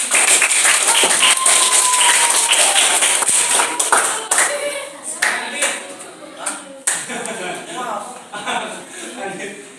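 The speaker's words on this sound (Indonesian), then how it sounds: "Oke, tepuk tangan." A classroom audience claps hands together during a teaching-practice session, loud dense clapping at first that thins into scattered claps, with voices and chatter audible underneath as it fades.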